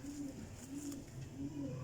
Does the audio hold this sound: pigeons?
yes